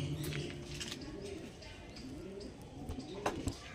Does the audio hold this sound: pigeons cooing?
yes